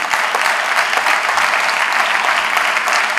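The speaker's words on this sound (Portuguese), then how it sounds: "Pode aplaudir o nome de Jesus" A church congregation breaks into loud, dense applause that fills the room without pause, with no voices rising above it.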